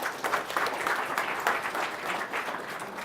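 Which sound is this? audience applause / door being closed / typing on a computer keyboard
audience applause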